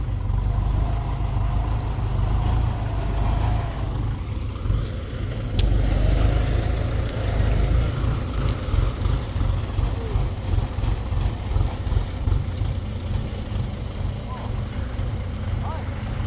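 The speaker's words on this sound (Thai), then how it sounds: "อู้เพิ่นเอารถไถเพิ่นมานำตัวนี้ให้เรา" A tractor engine runs near a cassava field, a low, steady rumbling drone that continues throughout while people talk over it.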